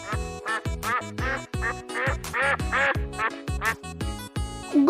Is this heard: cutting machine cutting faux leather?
no